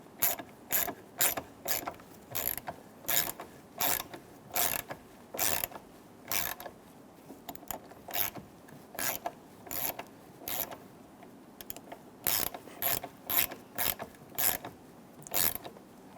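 Ratchet wrench driving a 6 by 1.0 thread tap into holes during A-pillar trim work on a 2014-2018 Chevrolet Silverado 1500, making rapid repeated clicking bursts in steady rhythm, close and fairly loud, with no talking.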